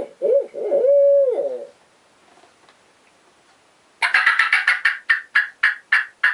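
A voice imitates an owl hoot with a rising, wavering hoot, then after a short pause a turkey diaphragm mouth call gives a fast, sharp ground cackle of clipped notes, close and loud.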